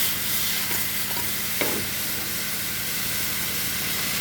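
Small fish added to a pan of fried pointed gourd for an ilish curry sizzle and fry steadily, a close, continuous hiss with a faint clink of stirring partway through and no talking.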